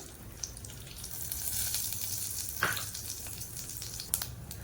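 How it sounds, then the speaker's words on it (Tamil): Dried chillies, mustard seeds and cumin tempering in about two spoons of hot oil, a continuous close sizzle with a couple of sharp pops and crackles rising out of it. "இதில் 2 ஸ்பூன் எண்ணெய் ஊற்றிட்டு கடுகு, சீரகம் தாளிக்க போட்டுடலாம்."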